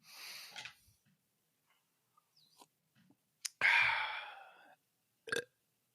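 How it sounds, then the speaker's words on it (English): A single loud, drawn-out burp close to the microphone, preceded by faint breathy noises and small clicks in an otherwise quiet room, with a short sharp sound following it. "Even the burp? Especially the burp."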